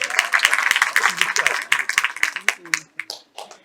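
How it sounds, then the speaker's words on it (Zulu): A crowd claps in honour of a legendary musician at a foundation tribute event, scattered sharp claps mixed with voices talking over them, thinning out toward the end. "simshayele likhulu ihlombe"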